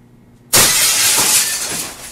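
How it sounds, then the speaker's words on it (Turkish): Glass window shattering in the horror game Please Forgive Me: one sudden loud crash that bursts in and keeps ringing with scattering shards for over a second, with no voices. "Bir şey camı kırdı."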